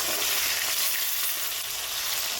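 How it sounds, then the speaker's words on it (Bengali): Small puti fish (chinapunti) frying in hot oil give a dense, even, close sizzling hiss that continues unbroken, with no voices over it. "লেজটা এভাবে ভাজলে ভালো হয়"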